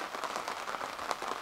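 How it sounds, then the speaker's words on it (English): Rain patters steadily on surfaces at a quiet boat anchorage in Gorge Harbour on Cortes Island, British Columbia, a close, even hiss of drops with no talk. "Woke up this morning, so clouds and rain."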